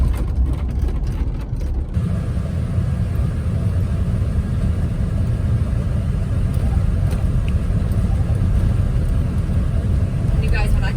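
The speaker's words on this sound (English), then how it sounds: "we're gonna take it for a test drive and see" A car on a road test drive after a cracked-dashboard repair, heard from inside as a steady, continuous low rumble of engine and road noise that stays even throughout.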